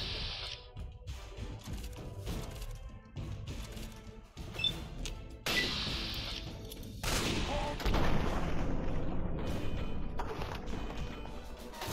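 In Fallout 3 on hard mode, an enemy's big gun fires in repeated loud bursts, heavy booming volleys that grow denser and more sustained as the fight goes on.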